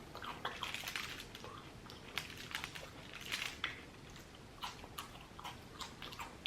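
Chewing on tacos up close, with soft crunchy bites and wet mouth sounds coming in an irregular rhythm, alone at low level with no talking.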